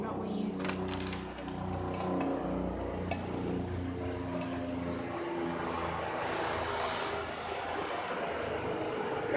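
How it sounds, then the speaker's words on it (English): A propeller airplane drones overhead, a faint, steady engine hum heard from inside a home garage, with light clatter nearby. "There's an airplane."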